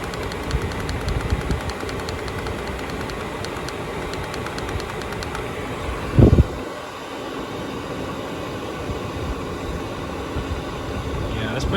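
A diesel heater runs inside a camper, giving a steady mechanical hum and fan rush of blowing hot air throughout, with a short louder thump midway.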